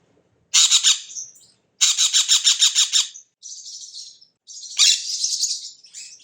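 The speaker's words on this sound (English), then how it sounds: "One of their signature sounds is called a machine gun sound." A white-winged parakeet lets out rapid, harsh rattling bursts of chattering squawks as an alarm call, three or four sharp stuttering volleys separated by brief silences, close and loud.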